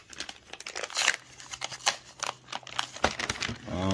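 Plastic packaging for RC car light buckets on a plastic tray is handled and opened, giving close, irregular crinkling, tearing and sharp clicking noises, some snaps louder than others, with no talk.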